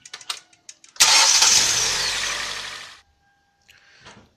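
A 2012 Hyundai Elantra with a 1.8 engine and a knocking fault cranks and fires into a loud, rough start that runs for about two seconds and then cuts off abruptly, with a few clicks before it and a faint noise after.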